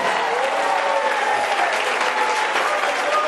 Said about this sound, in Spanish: ¡Oh, dele palmas de alabanza al que vive